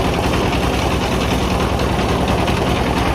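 A trawler boat's engine drones as it approaches a riverbank, a loud, steady, unbroken rumble up close with no talk.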